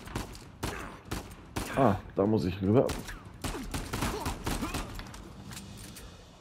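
Rapid gunfire bursts in the Uncharted 4 video game crack repeatedly amid thuds and action noise, while someone talks over the shooting.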